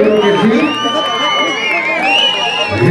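A loud crowd at a Mexican bull-riding event cheers and whoops continuously, with shouting voices layered over the noise throughout.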